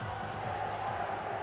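A large stadium crowd roars and cheers as a star rugby league player scores in a 1996 Wigan v St Helens match, a steady wash of distant noise with no break.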